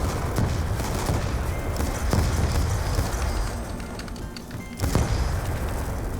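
Ray gun fire in Call of Duty zombies keeps up as a dense, loud barrage of zaps and blasts layered over constant gameplay noise, with a brief dip before a fresh burst.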